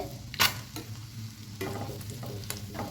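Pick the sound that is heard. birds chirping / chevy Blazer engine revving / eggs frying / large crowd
eggs frying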